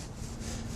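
Serrated knife sawing through puff pastry, a continuous close rasping scrape with light pressure, steady and alone without speech.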